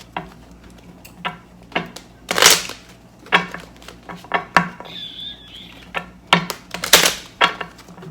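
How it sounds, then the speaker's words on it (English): A tarot deck being shuffled by hand, with a series of sharp papery riffles and taps spaced irregularly about every half second, close and fairly loud, with a brief faint whistle-like tone partway through. "Let's do 2 more shuffles."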